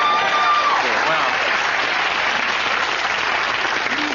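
Studio audience applause on a comedy talk show, a continuous, fairly loud roar of clapping that stays even from start to finish.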